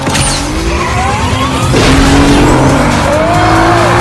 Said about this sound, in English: Put into power mode and just shoot and the car will go.